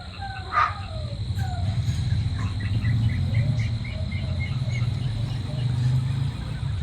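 Frogs and crickets call together from a rice field behind a house in the Thai countryside, a dense steady chorus of trills and croaks with repeated chirps, continuous and moderately loud throughout.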